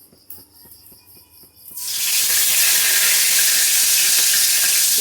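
Whole bay leaves drop into plenty of hot frying oil left from browning potatoes, and a loud, steady sizzle erupts abruptly after a few quiet clinks, then holds.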